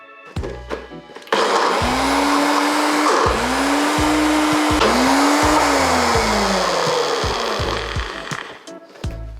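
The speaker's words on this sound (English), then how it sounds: "Just the chickpeas are struggling to blend up a little bit, but it's almost there." A blender whirring through chickpeas for homemade hummus starts up with a loud, high motor whine. The pitch rises and sags repeatedly as the blades labour through the thick mixture, then the motor winds down near the end.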